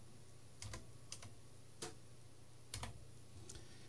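Typing on a computer keyboard beside a CRT TV: five separate clicks spread sparsely across a few seconds, fairly faint over a steady electrical hum with no talking.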